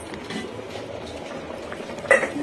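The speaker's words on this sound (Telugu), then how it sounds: "వాటర్ అనేది బాగా బబుల్స్ వచ్చి బాయిల్ అవుతుంది కదా" Water coming to a boil in a pot on a kitchen stove for foxtail millet upma, a soft steady bubbling with a light metallic clink near the end, close by and alone.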